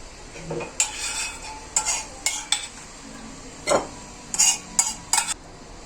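A utensil stirs an onion and tomato paste filling in a pan, with several sharp clinks and scrapes against the metal, spaced irregularly over a soft background, up close.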